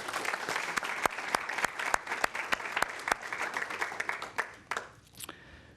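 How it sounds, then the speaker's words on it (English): Sparse applause at a school board meeting for a retiring middle school teacher: a modest round of distinct, separate claps, fairly quiet and slightly uneven, fading out after about five seconds. "Hand of applause, or round of applause, please."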